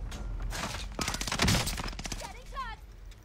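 Rapid video-game gunfire from an online shooter set at Alcatraz, a dense burst of shots peaking midway, with a voice briefly exclaiming near the end.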